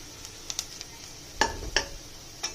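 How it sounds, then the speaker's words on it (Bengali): Onions frying in a little oil until golden brown for achari gosht, with sparse crackles and a few sharper sizzling pops over a soft steady hiss, close by. "সামান্য একটু তেল দিয়ে পেঁয়াজ বেরেস্তার মতো করে নিচ্ছি।"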